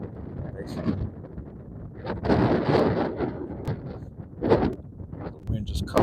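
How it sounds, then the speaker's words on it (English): Strong wind gusts buffet the microphone and blow sand around an off-grid homestead, rising and falling in loud surges while someone talks through it. "It's real windy. You see all the sand blow up."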